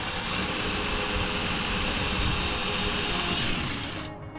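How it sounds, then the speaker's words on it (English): Power drill boring a 3/16 bit through pre-drilled holes in a C8 Corvette rear diffuser, a steady loud whirring whine that runs continuously and then stops abruptly at the end. "you'll need to drill holes through the pre-drilled holes on the rear diffuser using a"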